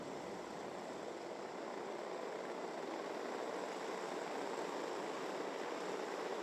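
Several racing kart engines rumble and rev together on the starting grid at a Mini class pre-final race, a steady, dense, moderately distant drone with the pitch building gradually and no voices.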